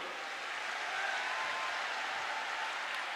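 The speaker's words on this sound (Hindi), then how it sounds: "एक बार जोरदार ताली बजाकर सब संतों का स्वागत करो।" Audience applause greeting saints at a Hindu religious gathering, a steady even wash of clapping from a crowd that holds level for the whole stretch with no voices over it.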